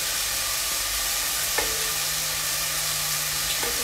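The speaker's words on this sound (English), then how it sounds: "I'm continuing to fry my potatoes, which are slowly turning brown" Potatoes frying on high heat for Indian-style fish and chips give a steady, even sizzle throughout, with a couple of faint clicks of stirring and no voices.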